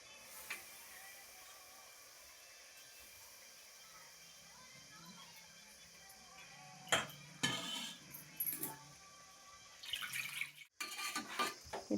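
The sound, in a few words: stirring duck meat curry in a pot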